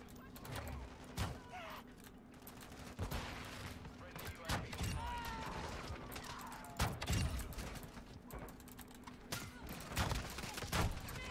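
Repeated gunshots crack through a shooter video game match, sharp bursts scattered irregularly over several seconds at moderate volume, with talk and game noise underneath.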